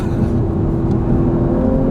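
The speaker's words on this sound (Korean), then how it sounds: "여기서 브레이크 밟고 제가속" A 2022 Audi S4 TFSI picks up speed again after braking, its engine giving a steady, loud drone heard from inside the cabin, with a constant low rumble and road noise and no change in level.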